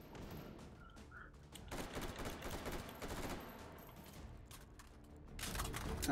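Gunfire and a flashbang in the VR game Hot Dogs, Horseshoes & Hand Grenades, heard as a fairly faint, busy stretch of rapid shots and bursts, with a louder blast toward the end.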